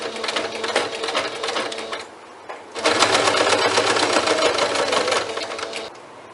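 A sewing machine backstitches over skipped stitches in two fast, buzzing runs broken by a short pause, loud and close with no voices.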